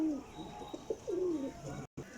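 Champion flying pigeons kept by a breeder give a few soft, rolling coos close by, each a low drawn-out call over quiet surroundings.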